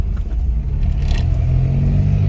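A VW Gol G3 roars on a track, its engine loud and close in a steady, rough drone with a slight rise in pitch, with no voices over it.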